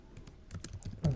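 Quick, light keystrokes on a computer keyboard as code is typed, irregular clicks spread across the moment with one firmer tap near the end, fairly close and quiet.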